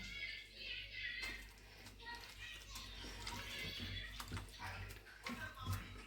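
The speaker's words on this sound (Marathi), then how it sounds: "ह्याला अजून एक दोन पाणी धुवून घेणार आहे" Homemade butter being washed by hand in water, close sloshing and splashing with soft squelches, while someone talks over it throughout.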